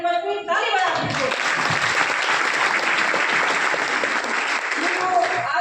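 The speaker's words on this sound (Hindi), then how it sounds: "इसलिए एक बेहतरीन ताली आप लोग से ये रिक्वेस्ट हुई, ताली बजा दीजिए।" An audience at an Ayurvedic supplement event bursts into sustained applause, thick and continuous for several seconds. A voice is briefly heard at the start.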